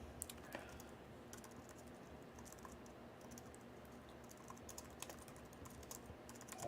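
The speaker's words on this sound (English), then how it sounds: "I'm going to mock you more with the typing" Typing on a computer keyboard: soft, irregular key clicks tapping along steadily at a moderate distance over a constant background hum, with no voices.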